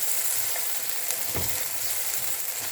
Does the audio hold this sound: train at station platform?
no